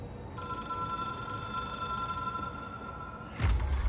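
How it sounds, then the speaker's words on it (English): A hotline telephone in the video game Control rings with a steady, bright electronic bell tone, sustained for about three seconds under a low ambient hum, then cut off by a louder thump. "It is a phone."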